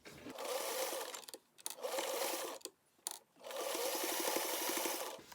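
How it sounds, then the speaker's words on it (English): A sewing machine top-stitches around the corner of a fabric face mask with elastic inside. It runs in three steady bursts, with short pauses where the work is turned or adjusted. "I turn this corner a good 1/4 inch, maybe 3/8 inch before I get to the other side"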